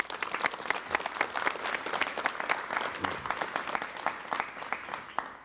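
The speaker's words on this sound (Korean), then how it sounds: "여러분 박수를 부탁드리겠습니다" Studio audience at a 1987 Korean television talk show applauds a guest lighthouse keeper, a lively burst of clapping with distinct individual claps standing out through the steady sound.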